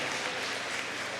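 Applause from an audience at a tribute event, a dense even wash of clapping for about a second with no voices over it.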